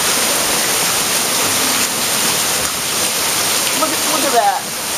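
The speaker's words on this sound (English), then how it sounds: "look at the water pouring off the roof." Heavy rain pours steadily off a house roof in a dense, continuous wash of water noise, loud and close, with a faint voice briefly audible beneath it.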